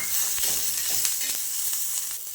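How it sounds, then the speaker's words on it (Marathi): Green chillies and garlic fry in oil in a pan for a Maharashtrian bhendi thecha, a dense, close, continuous sizzle with a few brief crackles and stirring scrapes. "छान मिरची तेलामध्ये भाजून घ्यायची. आणि मिरची भाजते वेळेसच नंतर वरतून घेतलेलं लसूण पण टाकून घ्यायचं."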